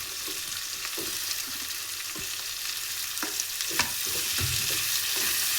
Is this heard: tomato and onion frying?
yes